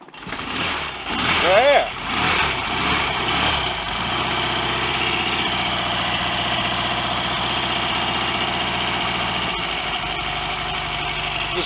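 A Royal Enfield Constellation motorcycle engine with a TT carburetor cranks and catches, revs briefly, then settles into a steady, loud, lumpy idle with no tick-over screw fitted; a voice exclaims once at the start.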